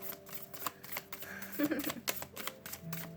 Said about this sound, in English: Let me just finish this shuffle out.